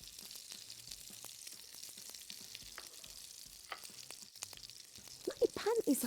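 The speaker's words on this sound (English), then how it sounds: "I have a hot pan with a bit of ghee." Ghee in a hot pan gives off a faint, steady sizzle and crackle. Louder bumps and clatter near the end suggest something being stirred or added.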